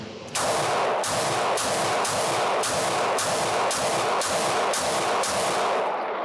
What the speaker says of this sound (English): now let's shoot for speed